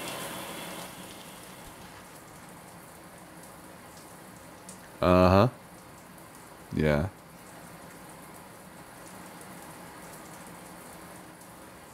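Shower water running in the video game Prey gives a steady, even hiss throughout, while a person briefly answers twice over it.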